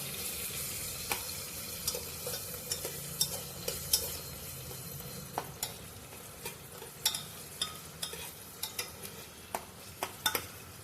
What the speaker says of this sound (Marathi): त्याच्यामध्ये टोमॅटो टाकून घ्या। टोमॅटो सुद्धा मऊ होईपर्यंत व्यवस्थित भाजायचा आहे।